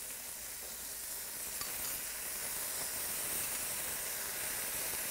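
Tomatoes and their juice poured over kosher beef short ribs searing in a pot produce a dense, continuous hiss and sizzle, fairly quiet and unbroken, with no talking.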